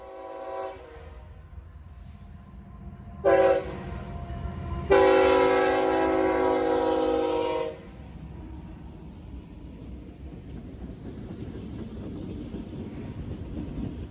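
Freight train, a daily Northtown to Willmar manifest in Willmar, Minnesota, rumbling steadily past, its horn sounding a short blast and then a long sustained one before the rolling noise carries on.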